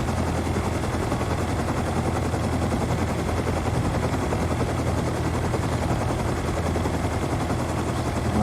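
A Mini Copter in the survival game Rust lifts straight off, its rotor beating in a fast, steady chop under a constant engine drone, loud and unbroken with no talk.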